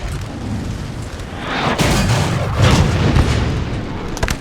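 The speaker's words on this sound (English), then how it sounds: "Howitzer shots being fired on the Grenadiers." Howitzer artillery fire in the Napoleon Total War video game, a rolling series of heavy booms and rumbling blasts that swell in loudness midway and stay dense and close.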